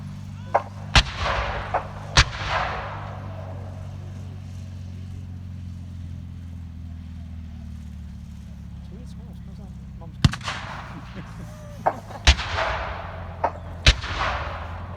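Artillery fire from 25-pounder guns shelling a village in a Normandy 1944 battle scene: several sharp, loud booms spaced irregularly, a pair early and a cluster near the end, over a steady low rumble.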